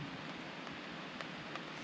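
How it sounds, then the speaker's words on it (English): Rain falling at a riverside campsite in Scotland, a faint, steady patter and hiss with a few soft drop ticks and no talking. "It's raining."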